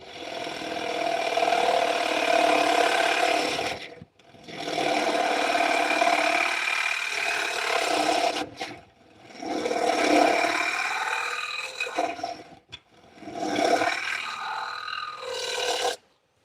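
A gouge hollows out the inside of a wooden workpiece turning on a lathe, in four long, loud bursts of steady cutting with short pauses between them and no talk.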